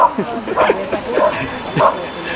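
An off-leash dog at a dachshund walk in Paris gives a handful of short, high yips and barks that come in quick bursts, with a person's voice blending in around them.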